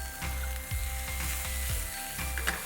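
Thick-sliced onions sizzle steadily in a hot pan, a constant frying hiss broken by several scraping stirs, close and fairly loud with no voices.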